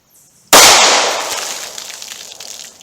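A single sharp gunshot from a .38 Special snub-nosed revolver fired into a ballistic test box of denim, a bologna pack and water jugs, loud and close, with a long ringing decay and no talk.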